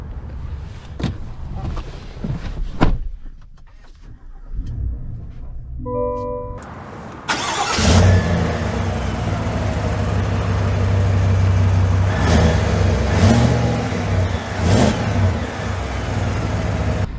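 A 2022 Chevy Silverado ZR2 pickup truck's engine catches after a quiet stretch, then settles into a steady, loud, close engine drone as the truck drives off, with a few brief sharper sounds over the rumble.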